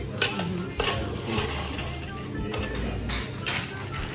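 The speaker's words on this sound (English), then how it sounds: "We'll move to add the ice." Ice cubes tumble into a cocktail shaker at a cocktail class, making a few sharp clattering bursts over a steady low background hum.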